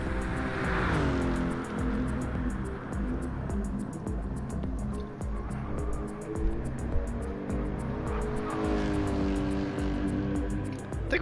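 A Lexus GT3 race car in a racing video game at Mount Panorama drones along with a steady, harmonic engine note that rises and falls through gear changes, loud and continuous, with no voices.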